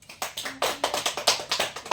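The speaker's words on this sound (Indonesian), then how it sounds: "tepuk tangan untuk" Classroom applause for a student, a small group of hands clapping close by in quick, uneven sharp slaps for about two seconds, with a brief voice fragment near the start.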